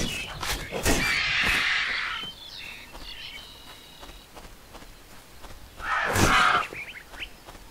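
Crows caw in the Titan Quest video game, two loud harsh bursts near the start and another around six seconds, set against quieter game ambience and faint footsteps.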